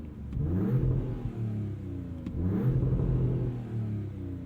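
A stock BMW M3 with stock mufflers revving twice, each rev a loud, close rising engine and exhaust roar that then falls back, heard alone.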